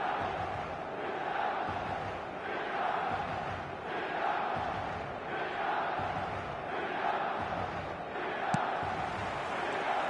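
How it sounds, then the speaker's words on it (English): Football video game crowd at San Siro stadium, a continuous roar of fans with rhythmic swelling chants and one sharp clap near the end, no voices over it. "Red and black wherever you turn, the San Siro is buzzing."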